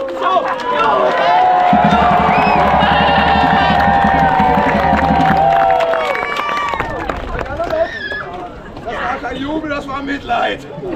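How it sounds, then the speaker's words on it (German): A crowd at a medieval show fight at a castle cheers and claps loudly, with babbling voices, then the noise fades into scattered chatter. "Volk, Jubel, Jubel!"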